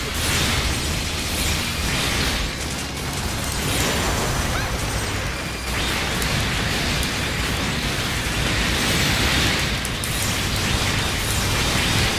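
A mech in Gundam Breaker 4 fires its weapons in a loud, unbroken wall of blasts, explosive bursts and mechanical noise with crackling pops, staying close and intense throughout with only slight dips.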